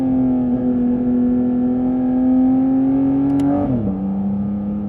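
Porsche GT4 RS engine held at steady revs in first gear with its exhaust valves closed, a loud, muffled, sustained drone that drops in pitch near the end as the revs fall, with no talking.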